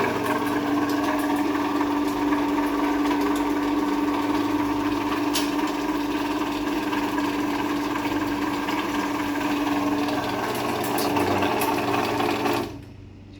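A Builder's Opener CM80-S garage door opener runs with a steady, buzzing motor hum and gear whine that holds evenly for about twelve seconds, then cuts off abruptly when the door reaches its limit.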